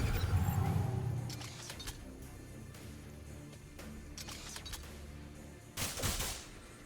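Weapons fire in the strategy game Age of Wonders: Planetfall, with a heavy opening burst, then scattered sharp shots and a loud volley near the end.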